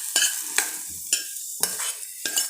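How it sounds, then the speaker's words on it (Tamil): Bread omelette masala being stirred and mixed in a pan after the heat is switched off, five distinct scraping strokes of a spatula against the pan with a faint sizzle between them, close and without talk. "இப்போ நம்ம இதை ஆஃப் பண்ணிவிட்டு இதிலே மிக்ஸ் பண்ண போகிறோம்."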